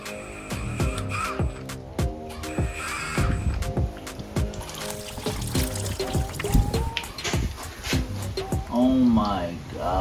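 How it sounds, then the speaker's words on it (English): Coolant trickles and pours out of the engine block of an abandoned Honda Civic EF hatchback once the big drain bolt is pulled, a steady splashing under nearby talk. "move on to the big bolt to drain the rest of the coolant out of the block"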